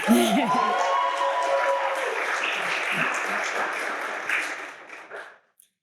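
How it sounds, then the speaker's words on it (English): A graduation ceremony crowd applauds steadily for about five seconds, a dense wash of clapping with a few cheers at the start, then fading quickly. "please give a round of applause"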